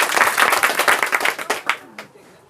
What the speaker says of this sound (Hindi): एक बार फिर से ताली बजा दो इसके लिए